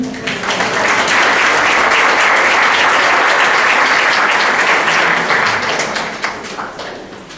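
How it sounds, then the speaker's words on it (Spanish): A conference audience applauds a speaker with a sustained burst of clapping that swells quickly, holds steady and loud for several seconds, then tapers off near the end. "Recibamos con un fuerte aplauso."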